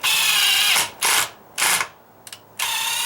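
A power drill's chuck clutch clicks and ratchets in four loud, rapid bursts separated by short pauses, up close during a dry-rot deck column rebuild.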